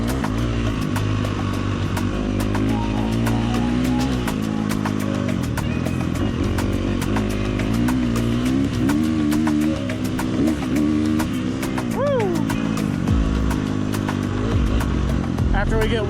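A motorcycle engine fitted with a Tokyo Mods Vortex ECU idles and revs while warming up, loud and close, with repeated throttle blips rising and falling over a steady rumble.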